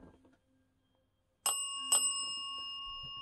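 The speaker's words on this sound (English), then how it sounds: "Can you ring the bell once for yes?" A small bell rings twice in quick succession, clear, close and sustained, ringing on in a quiet room after a few soft murmurs.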